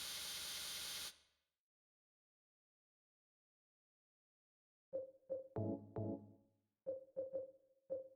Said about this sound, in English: I got bug spray.